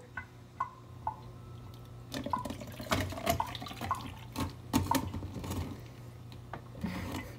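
Hot water is poured from a tap or kettle over ice cubes in a cup, a soft trickle with small crackles and splashes, fairly quiet and close.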